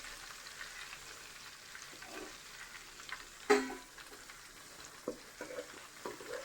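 Chicken fries in a pan of oil with a steady low sizzle, broken by a few sharp clinks and scrapes from stirring, heard close with no talking.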